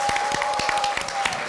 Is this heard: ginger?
no